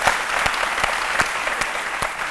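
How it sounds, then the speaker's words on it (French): A studio audience claps for a couple, a warm, even burst of applause with a few sharper individual claps punctuating the steady patter throughout. "Bravo, on peut les applaudir."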